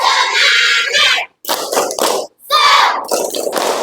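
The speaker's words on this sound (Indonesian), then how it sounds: "Ice breaking tepuk." Schoolchildren clap in bursts during an ice-breaking clapping game in a classroom, loud close rhythmic clapping broken by short pauses.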